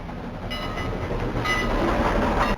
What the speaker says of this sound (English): including a train